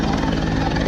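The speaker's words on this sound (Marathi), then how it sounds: "पुष्प वर्षा करताय मित्रांनो हेलिकॉप्टर" A helicopter showers flowers over a large crowd at the Maha Kumbh Mela 2025 gathering, its engine and rotor giving a continuous droning hum with a low rhythmic throb, fairly loud for a brief moment.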